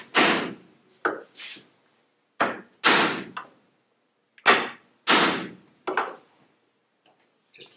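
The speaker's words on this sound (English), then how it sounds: "Take a chisel, and I'll chop in here." Chisel driven into wood by mallet strikes while building a Townsend document chest, about nine sharp, close knocks in uneven pairs and singles with short pauses between.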